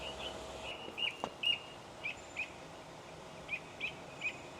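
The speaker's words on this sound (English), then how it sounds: "I hear like a lot of birds chirping up there." Small birds near a nest chirp in short, bright bursts, about eight scattered calls over a quiet outdoor background in a suburban neighborhood, fairly faint and unaccompanied by talk.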